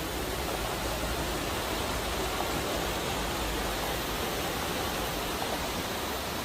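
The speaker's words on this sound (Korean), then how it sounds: "계곡물이 폭포수처럼 떨어지고 있습니다." A mountain stream pouring over a check dam at the entrance to forest land, a dense, constant roar of falling water, loud and close throughout with no voices.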